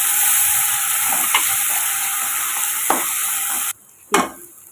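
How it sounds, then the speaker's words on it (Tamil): A loud, steady sizzle of tomato paste frying in a hot pan, with a few scraping stirs, then the sizzling cuts off briefly before a final stir. "இதையும் கொஞ்சம் பச்சை வாசனை போகிற வரை நம்ம வதக்கி எடுத்துக்கிடலாம்."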